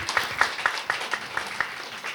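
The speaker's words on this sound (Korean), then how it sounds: "박수 한번 쳐주시죠." At a church installation thanksgiving service, the congregation gives a short round of applause. The claps are distinct and rhythmic, fairly soft and somewhat distant, with a few hands keeping a steady beat before fading.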